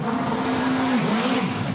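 An Audi R8 GT3 race car accelerating out of the pit lane during the Gulf 12 Hours, a loud steady engine drone with a sustained whine that dips briefly as it shifts.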